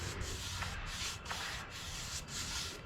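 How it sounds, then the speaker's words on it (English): A brush spreads finish along the grain of a wooden under-cabinet shelf in close, soft swishing strokes, about four or five even passes in a steady rhythm with no one speaking. "you're gonna want to brush it with the grain of the wood"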